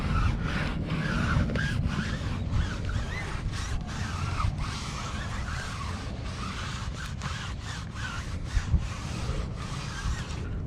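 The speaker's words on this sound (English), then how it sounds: "I think I could scrub the tire because that's just dirt and stuff" Brush scrubbing dirt off a car tire on an LSX-swapped Chevrolet Colorado Xtreme with stock wheels, a steady close rasping rub with short strokes and no talking.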